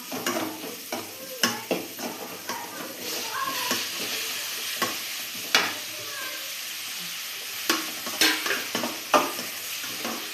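Finely chopped tomatoes sizzle steadily in a hot pan while a spoon stirs and scrapes in frequent irregular strokes, the frying close and continuous throughout.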